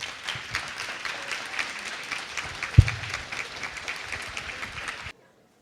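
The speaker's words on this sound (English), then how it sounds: "please give them a round of applause" Conference audience at a summit applauds a panel in a large hall, a sustained, even clatter of many hands with one sharp thump midway, stopping abruptly into silence near the end.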